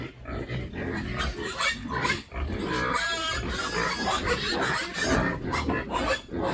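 Pigs grunt and snort close by in a rough, continuous stream, the noises overlapping and rising in short louder bursts.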